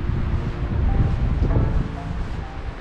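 Autumn wind blows across Beacon Fell in the Forest of Bowland, buffeting the microphone with low, uneven rumbling gusts that rise and fall throughout.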